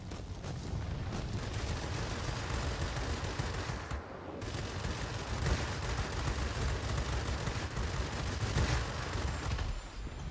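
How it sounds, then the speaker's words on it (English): Bell XP-77 fighter cannon fire in World of Warplanes, dense rapid bursts of gunfire with a heavy engine roar underneath, sustained and loud across the whole stretch with a brief gap in the middle. "Just a little bit of cannon fire from us ought to take it out."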